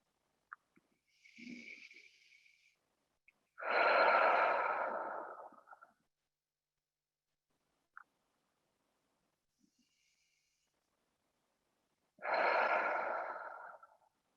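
A person breathes deeply while holding a forward-folding yoga stretch in a quiet room. Two long, soft exhales are heard several seconds apart, with a faint short breath at the start and a small click between them.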